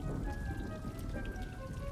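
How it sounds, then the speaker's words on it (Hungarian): Steady rain pattering onto plants in the Hogwarts Legacy video game, a dense, continuous shower of close droplets with a faint low rumble beneath. "még egy kis izéből jön az eső"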